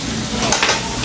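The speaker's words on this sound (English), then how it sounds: "Masaknya aja kan lumayan lama ini sate crispy." Crispy satay cooks on a Korean barbecue grill at dinner, giving a short burst of steady sizzling with a faint scrape of stirring, close and moderately loud, with no talking.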